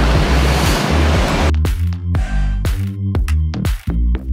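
Loud, steady wash of Black Sea surf at Batumi near the microphone, with a rhythmic low rumble of breaking waves and some wind buffeting throughout.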